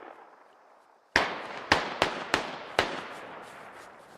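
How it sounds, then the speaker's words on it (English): Assault rifle fire in a competitive video game match: after a quiet lead-in, five loud, sharp cracking shots ring out in a quick irregular burst, each with a short decaying tail. "Coons mag dumping the AR once more"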